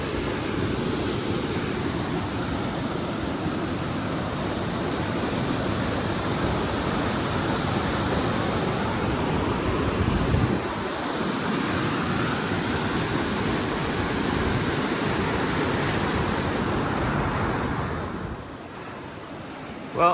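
East Creek, a mountain creek on a high Sierra trail, rushing at a crossing near a bridge. It gives a steady, dense, broadband roar that stays loud and constant, then drops off sharply near the end.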